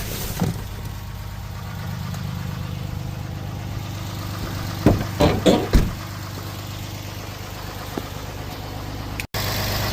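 A steady idling engine, from the vehicle supplying the jump for a skid steer, hums low and even, with a few clanks and knocks midway as the cables are handled, close by and with no talk.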